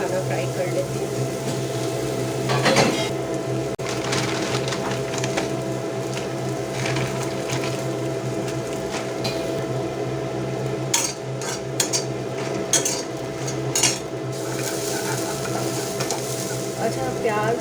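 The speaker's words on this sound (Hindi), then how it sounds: "मखाना फ्राई कर लेती हूँ" Makhana (fox nuts) fry in a pan while being stirred, giving a steady close sizzle with scraping and clinking from utensils against the pan throughout, and a few sharper knocks later on.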